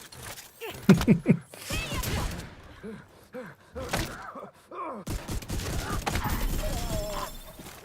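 A video game shooter fires guns in sharp bursts, with thuds and impacts scattered across the scene. Game voices grunt and call out between and over the shots.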